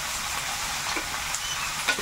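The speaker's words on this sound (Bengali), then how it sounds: "একটু নড়ে চড়ে ভেজে নেব।" Fish and green chilli fry in hot oil, a steady close sizzle and crackle with faint stirring scrapes, no voices over it.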